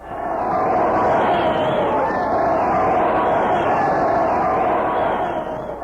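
A large crowd cheers to welcome Syngman Rhee, a dense and steady roar of many voices that holds loud and even for several seconds.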